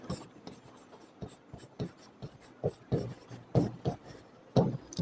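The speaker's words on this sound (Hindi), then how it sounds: "तो हिंदी में लिख लेता हूँ, लिम्फोसाइट्स।" A pen writing by hand on paper during a Hindi science lesson on blood, heard as a close series of short scratchy strokes in an uneven rhythm, with no talking over them.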